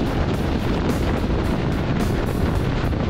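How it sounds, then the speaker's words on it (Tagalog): Strong wind buffets the microphone in a constant roaring rush while riding a Yamaha Mio i 125 scooter on an expressway, loud and close, with a faint rhythmic pulsing underneath. "masyadong malakas yung hangin, lalo na sa likuran"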